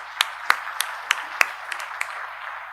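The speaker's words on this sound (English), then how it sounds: "I hope you'll join me in applauding her for the effort she's put in" An audience at an inaugural session of a postgraduate certificate course applauds with sparse, scattered claps, about nine distinct sharp hand claps spread unevenly and fairly faint, with no steady roar of applause.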